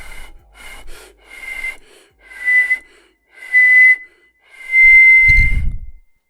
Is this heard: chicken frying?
no